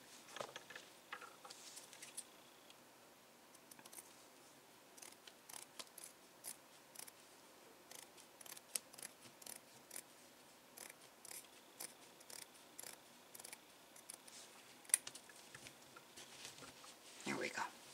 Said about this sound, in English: And then I think I'm gonna cut three more here.